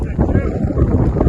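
Polar vortex wind gusting hard against a tent and tarp outdoors, loud buffeting rumble and flapping close to the microphone.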